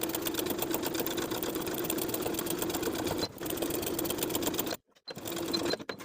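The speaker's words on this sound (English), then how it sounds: "then sewing the facing to the seam allowance underneath all the way around" A sewing machine stitches a dress facing to its seam allowance, running in a fast, steady close-up whirr, pausing briefly twice before resuming.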